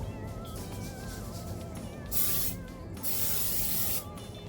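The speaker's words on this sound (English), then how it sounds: "Spraying it with some non-stick cooking spray." Two hissing bursts of aerosol non-stick cooking spray onto a skillet, the second longer, close by, over a faint background murmur.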